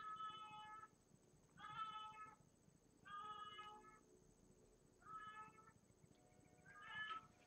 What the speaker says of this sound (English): My cat makes weird sounds.